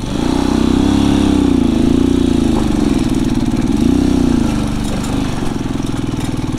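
A Halcyon 450 motorcycle engine runs loud and close with a low, uneven throb that wavers and sags as if about to stall, then settles lower near the end.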